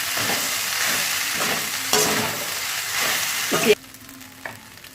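Idli upma with idli podi being stirred in a hot pan, with steady frying sizzle and repeated scraping strokes of a spoon, loud and close, fading to a quieter hiss near the end.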